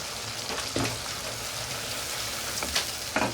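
Ginger sizzling with softened tomatoes in a pan for Pakistani aloo palak, a steady close crackle with a few sharper spits and stirring clatters, no voices.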